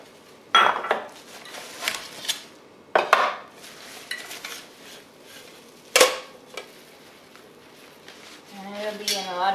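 Clothbound cheddar cheese being unmolded and flipped out of its mold, giving several sharp clanks and knocks of the mold against a hard surface with rustling handling between them, fairly close, with brief speech nearby.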